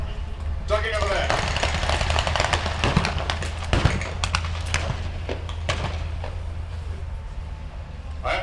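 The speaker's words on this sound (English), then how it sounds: "Is somebody trying to surrender and firing at the same time?" Gunfire at a WW2 battle reenactment at Tankfest 2023, heard as scattered sharp cracks and bursts against a steady outdoor rumble, with a commentator talking over it throughout.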